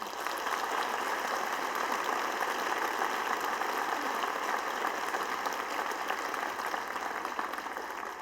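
An audience at a school board ceremony claps in sustained applause, a dense, even patter of many hands heard from within the room for several seconds.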